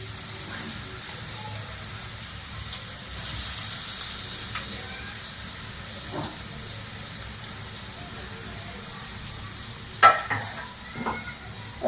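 Spinach paste hits a hot tempering pan with a soft sizzle and stirring, faint and steady, followed by a few clinks of a utensil near the end.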